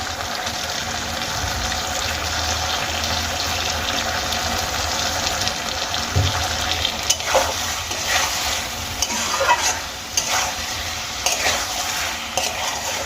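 Potatoes sautéed with spices in a pan for a Bengali-style pea and paneer curry, sizzling steadily while a spoon stirs and scrapes in repeated strokes, close up with no talking.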